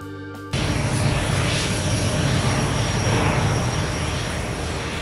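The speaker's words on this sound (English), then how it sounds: "Airbus A350-900." An Airbus A350-900 wide-body passenger jet gives a steady, loud engine roar and broad rushing hum that starts abruptly and holds evenly, with a faint high whine on top.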